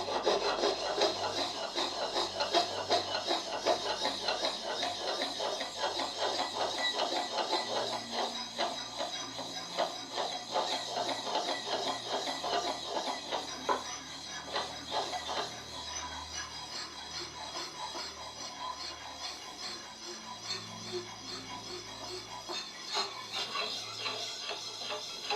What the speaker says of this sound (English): I do have this fairly new sharpening stone after all.